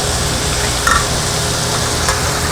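Pre-cooked ravioli hitting a hot pan over medium-low heat gives a steady, loud sizzle and frying hiss that fills the whole moment, with faint stirring clicks and no talking.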